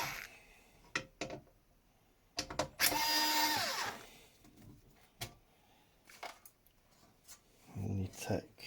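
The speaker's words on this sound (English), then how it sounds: "Take these two screws out of here." Small screws being unscrewed and lifted out of a Technics RS-TR373 cassette deck: scattered close clicks and scrapes, with one brief, louder whirring rasp near the middle and a few soft taps around it.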